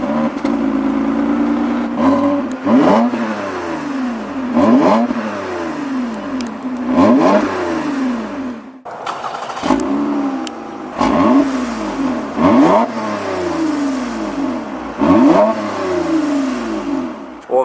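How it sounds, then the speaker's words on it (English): Revving through the TRD catback exhaust on a 2020 Toyota Avalon TRD or Camry TRD, loud and near, with repeated rising-and-falling blips over a steady idle. "my favorite part with both vehicles is they come with the TRD catback exhaust. It's not too aggressive, but it gives it a nice tone"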